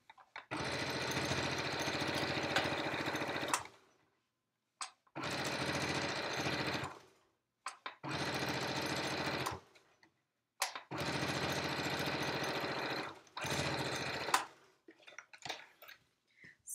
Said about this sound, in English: You put the front up, and then you sew as kind of close to the edge as possible.